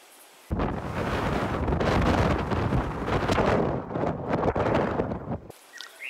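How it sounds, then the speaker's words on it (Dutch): Steady wind gusts roar against the microphone at a sheltered campsite in Mozambique, a continuous broadband rush that swells and eases over several seconds with no talking. "het kan hier 's middags en tegen de avond flink hard waaien."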